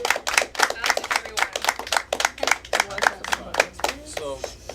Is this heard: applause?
yes